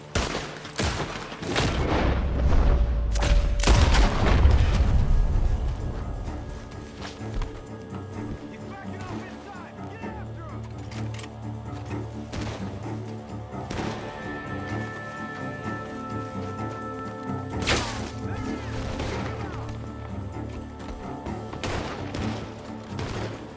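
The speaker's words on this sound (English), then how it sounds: "The gunshots are coming from that barn." Gunfire rings out from a barn in the Western video game Red Dead Redemption 2, with a loud burst of shots and booms early on, then sparser, more distant cracks over music and ambience.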